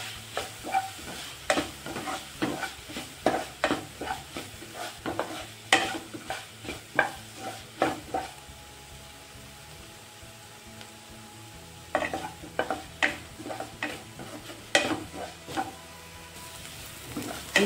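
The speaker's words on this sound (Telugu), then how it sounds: "ఇది వేగడానికి టైం పడుతుంది. 3 to 5 minutes వరకు పడుతుంది ఆనియన్స్ వేగడానికి." Onions fry in a pan for a kaju tomato curry, giving a soft sizzle broken by repeated scraping stirs in uneven bursts, with a quieter pause midway before the stirring resumes.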